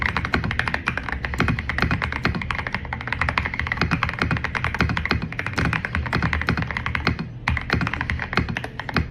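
Rapid, steady typing on a computer keyboard, a continuous close clatter of keystrokes running the whole time with no voices.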